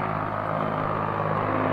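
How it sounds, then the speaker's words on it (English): A truck rolling into town on Highway 80 in Fort Benton, Montana, using its compression brakes, giving a steady, loud low engine drone with a throbbing rumble that holds unbroken throughout. "You can hear a truck coming in using their compression brakes"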